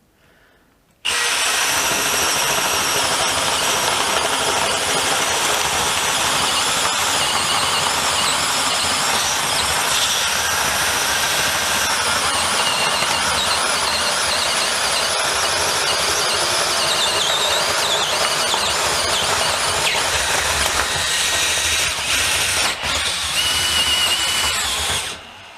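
A DeWalt DCD701 12V brushless drill boring a 32mm hole in wood starts abruptly and runs loud and continuous for about twenty-four seconds with a high, whining, grinding bit noise, then cuts off, with no voices.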